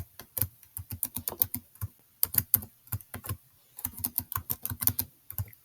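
Quick typing on a computer keyboard, two close bursts of crisp keystrokes separated by a short pause, faint and isolated in a quiet room.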